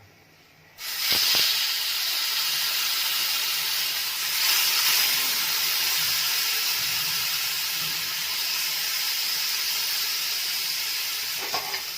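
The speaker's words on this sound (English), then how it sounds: "drop in 3 spoons of oil and then put the fish for frying" Steady loud hissing sizzle of fish frying in oil on a dosa tawa, starting abruptly and continuing evenly throughout, with no voices.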